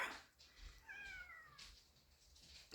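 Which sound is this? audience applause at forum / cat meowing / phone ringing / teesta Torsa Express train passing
cat meowing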